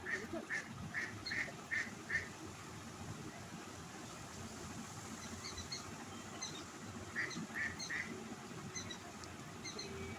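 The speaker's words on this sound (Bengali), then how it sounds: "হাঁসগুলো খুব ডাকছিল পুকুরে" Ducks on a pond quack in short bursts of four or five calls, then again after a pause, over a steady low rumble of background noise.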